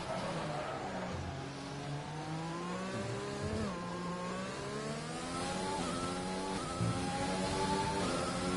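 F1 race cars in a sim racing game at Abu Dhabi scream along the track, several high-pitched engines rising and shifting through gears at once, steady and moderately loud with no talking.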